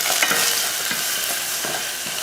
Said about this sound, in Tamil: ரசம் தாளிக்கிறதுக்கு எண்ணெய் ஊற்றிடலாம்.